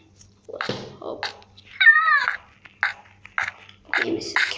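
Minecraft cat meows several times in a row, mid-loud, with bending pitched calls and short pauses, a person speaking briefly around them.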